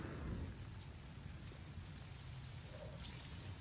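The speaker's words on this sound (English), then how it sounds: "And it's starting to rain more." Rain falls on a rocky planet in No Man's Sky as a steady, soft wash of noise with a low rumble beneath it, faint and continuous with no voices.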